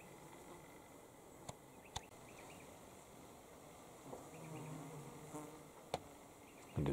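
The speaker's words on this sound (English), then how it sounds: "I just had a bee buzzing around the camera." Faint insect buzzing, a bee and flies, hovers close around a camera set outdoors in morning breeze near water in Boyagin, with a few sharp clicks and brief rustles over quiet background.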